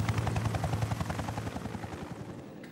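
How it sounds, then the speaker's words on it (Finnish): Mil Mi-1 helicopter from the early 1960s Finnish Air Force flying, a steady rapid rotor chop with a low engine drone, loud and close, slowly fading slightly over the stretch with no voices. "1961, kun ensimmäiset MI-1-helikopterit saapuivat Poriin"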